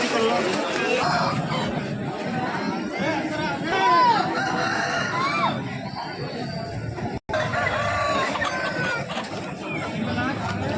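Several roosters crow loudly over and over at a poultry market amid a busy crowd murmur and clucking hens, with chatter running throughout.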